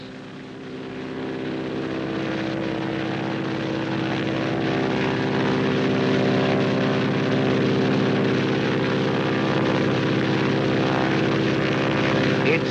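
Light propeller airplane flying an emergency medical flight in 1947, a steady loud drone of engine and propeller with a slowly rising level, continuous throughout with no break.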